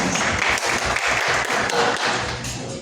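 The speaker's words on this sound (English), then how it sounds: "A round of applause." Audience at a maritime faculty bonding get-together applauding a university vice president, a dense, continuous wash of clapping that stays loud and fairly close before easing slightly at the end.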